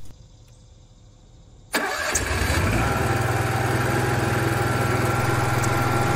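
An RV generator engine cranks and catches after a quiet stretch, then settles into a loud, steady running drone that continues to the end.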